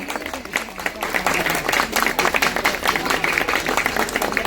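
An audience claps at a sangeet night for a Gujarati groom and Malayali bride, a dense, sustained patter of many hands with a crowd murmur beneath it.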